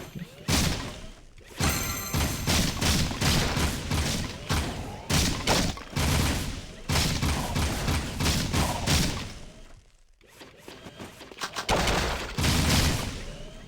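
Jak II gunfire, sustained loud volleys of shots with thuds and crashes, broken by short pauses and resuming near the end.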